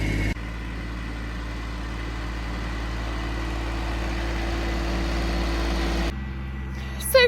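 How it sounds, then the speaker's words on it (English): A tractor topping a field, a steady low engine drone with a strong bass hum running unbroken for several seconds, fairly close, then cutting off abruptly near the end. "it's going to get a bit noisy with the tractor"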